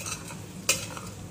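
Raw peanuts go into a frying potato dish and are stirred, giving a soft sizzle with scraping strokes and one sharp utensil clink near the middle.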